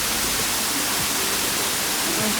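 Steady broadband rush of a waterfall on Mount Takao in Japan, a continuous even roar with no distinct splashes and no talking.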